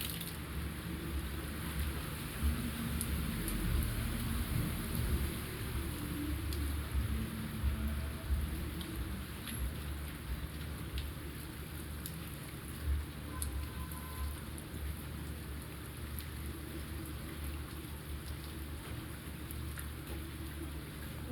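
Steady winter rain falls outside, a dense, even hiss of drops on surfaces that holds for the whole stretch without pause or voices.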